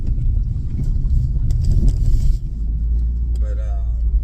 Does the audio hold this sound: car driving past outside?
yes